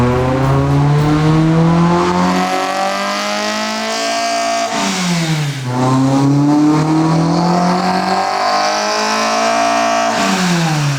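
A tuned Honda Civic engine with a bigger camshaft screams loudly to 9,000 RPM, climbing in pitch through several pulls with brief drops between gear shifts, no talking.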